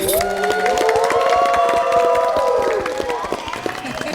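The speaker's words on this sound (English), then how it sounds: "So I want to give a big round of applause for her once again." Studio audience at a dating show reunion clapping and cheering for the host, lively crowd noise with whoops and a sustained tonal cheer running throughout.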